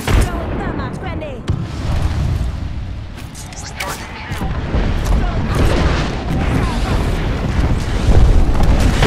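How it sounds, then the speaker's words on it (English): Airstrike explosions in the shooter game Apex Legends, a dense run of booming blasts and crackling gunfire that rolls on loudly throughout, with no break in the barrage. "Calling the airstrike"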